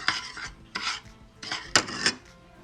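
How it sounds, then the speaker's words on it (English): A utensil scrapes and clinks against a bowl while honey chicken barbecue marinade with brown sugar is mixed, four short scraping strokes in a loose rhythm, close and fairly quiet. "Gonna mix it together."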